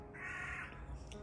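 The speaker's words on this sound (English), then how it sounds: "Oh, you can hear a crow going by." A crow caws once as it flies past an English country cottage garden, a single drawn-out call standing out over faint background noise, no voices.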